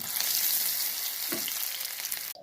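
Potatoes frying in hot oil for a light potato and vegetable curry, a loud continuous sizzle close up with one brief stir near the end, no talking.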